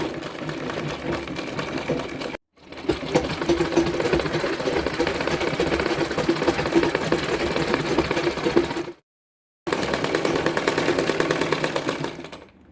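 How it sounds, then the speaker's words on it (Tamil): A sewing machine running steadily as it stitches along the border edge of a lungi, a loud, continuous mechanical whirr broken by two short pauses. "இந்த பார்டரில் இந்த எட்ஜ்லேயே ஒட்டி இப்படி தையல் போட்டுட்டு வரணுங்க"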